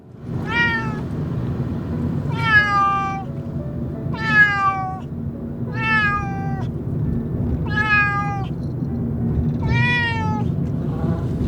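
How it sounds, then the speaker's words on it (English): Cats meow repeatedly during a long car ride, six drawn-out wailing calls about two seconds apart, loud and close over a steady low road rumble, with no talking. "my ears almost died from 9 hours of non-stop meowing"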